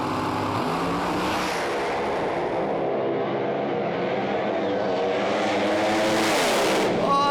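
Drag racing cars roar down a quarter-mile strip, a loud continuous engine howl that rises in pitch as the cars accelerate, with no talk over it.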